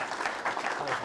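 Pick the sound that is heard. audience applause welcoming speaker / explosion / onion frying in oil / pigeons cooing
audience applause welcoming speaker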